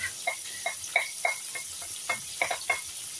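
A utensil stirs beef caldereta in a pan, making about nine light clinks and scrapes in an irregular rhythm over a faint background hiss.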